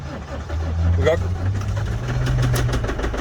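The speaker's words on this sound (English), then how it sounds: "this engine has got internal issues, so it is hard to start" A worn car engine with internal problems cranks and sputters into a rough, uneven idle, with a person speaking over the noise.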